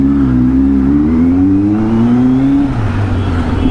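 A 2023 Kawasaki Z900 motorcycle with an Arrow full-system exhaust sweeps past, its steady loud engine note rising in pitch and then dropping sharply as the bike goes by, continuous and close throughout.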